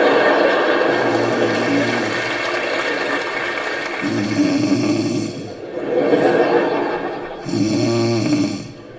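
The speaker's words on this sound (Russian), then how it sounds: "Ну, что ты опять будешь храпеть, я не усну опять." A woman snores heavily and loudly in long rasping, rumbling breaths, a few snore cycles swelling and fading over steady background noise in a comedic home bedroom scene.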